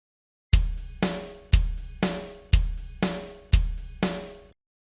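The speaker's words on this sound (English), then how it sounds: "Between the 4 counts, for quarters, we usually hear a cymbal also at the halfway point." A rock drum beat plays alone with steady quarter-note hits and a cymbal crash on each half count, eight sharp, loud strikes with ringing decays in an even pulse.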